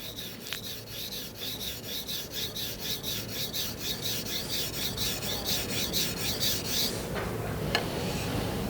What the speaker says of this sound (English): Just going to finish sharpening the knife.